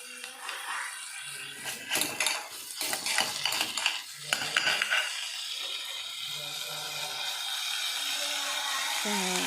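Onion, cashews and green chilli fry in a pan with a loud, close sizzle, broken at first by rapid scraping and stirring strokes, then settling into a steady hiss.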